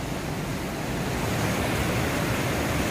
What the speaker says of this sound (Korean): 여기는 상단 두댄폭포이고요.